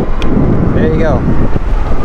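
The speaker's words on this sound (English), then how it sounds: "it just got really windy" Strong outdoor wind buffets the microphone in a loud, rumbling roar, with a brief whine and faint voice sounds passing through.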